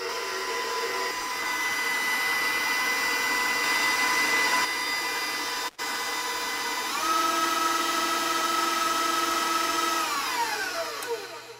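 Electric mixer whirring steadily through red velvet cupcake batter, its motor pitch dipping and rising as speed changes, with a brief cutout midway and no talking.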